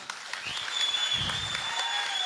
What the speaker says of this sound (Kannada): ಒಂದು ಜೋರು ಚಪ್ಪಾಳೆಯನ್ನು ಕೊಡಬಹುದಾ